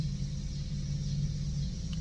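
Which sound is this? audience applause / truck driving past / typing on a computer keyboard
truck driving past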